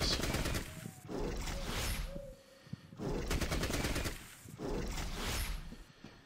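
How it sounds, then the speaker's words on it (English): Assault rifle gunfire in a video game, sustained automatic bursts in loud stretches broken by brief pauses, close and dominant, with a short pitched creature-like sound between bursts. "Let's switch over to the assault rifle"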